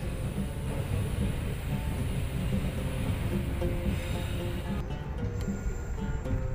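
Pangrango economy and executive passenger train running on a double-track railway, a steady low rumble of wheels and carriages rolling continuously at close range, with a faint hiss near the end.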